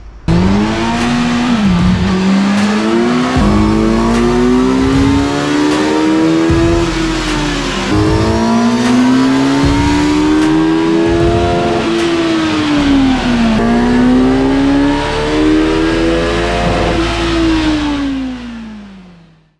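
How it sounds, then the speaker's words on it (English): A 2023 Kawasaki Z900 engine revs repeatedly with a loud, raspy aftermarket SC-Project full exhaust, pitch rising and dropping in a series of throttle blips before cutting off. "We're about to warm the bike up and get it running."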